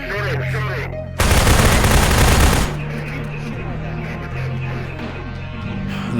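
A loud, close burst of rapid automatic gunfire lasting over a second in DayZ, played as a Half-Life roleplay server, with voices talking before and after amid droning game sounds.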